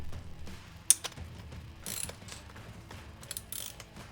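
A 14mm wrench ratchets on the axle bolt of a Honda CRF50 dirt bike in a garage, giving bursts of close mechanical clicking with a sharp clank near the start and several bright metallic taps.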